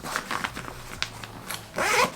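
A polyurethane-coated zipper on a bag's small zippered pocket is pulled in a few short rasping strokes, then drawn in one longer, louder run at the end, close and alone.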